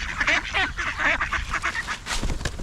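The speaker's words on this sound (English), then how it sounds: "come and feed the ducks" Ducks and geese in New Zealand crowd in for bread, a busy chorus of overlapping quacks and honks that comes close and loud in quick irregular bursts.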